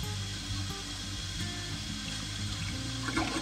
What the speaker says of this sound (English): You just kind of push it down a little ways and then hold it for a second or two to let some water down